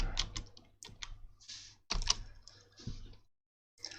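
Quick, uneven bursts of keystrokes on a computer keyboard as a terminal command to edit the GRUB boot file is typed in Zorin 15 Linux, close and clear, with short pauses and a final key press.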